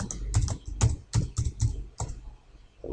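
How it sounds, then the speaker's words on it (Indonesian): Typing on a computer keyboard during a DraftSight 2D design tutorial, a close series of irregular key clicks and taps with short pauses between them, no talking. "Kita ketik misalkan format tampilan"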